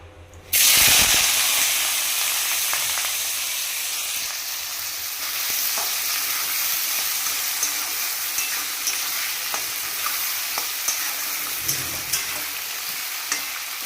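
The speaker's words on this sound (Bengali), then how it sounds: "এবার আলু পোস্ত বসাচ্ছি" Potatoes with poppy seed paste go into a hot pan and set off a sudden loud sizzle that settles into a steady hiss with light crackles and occasional stirring, and no one speaks.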